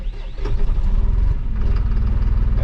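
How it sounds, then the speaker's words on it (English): A Fendt Vario tractor's diesel engine cranks and catches, settling into a steady, loud, close low idle with a rapid throbbing pulse, started remotely. "To start the engine, we press and hold the start button."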